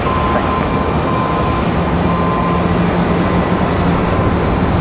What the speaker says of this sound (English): A350 just passing by the airport.